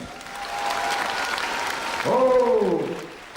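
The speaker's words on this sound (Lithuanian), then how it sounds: "Plojimai rėmėjams." Audience applause at a 1998 children's concert in Lithuania, thanking the sponsors: steady clapping that swells and fades over a few seconds, with a tone sliding under it near the end.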